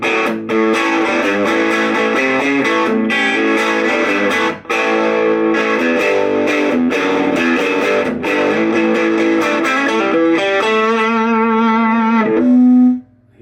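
Electric guitar plays a driven rock riff through an Orange Crush 12 amplifier with crunchy distortion, loud and continuous, ending on a sustained ringing chord.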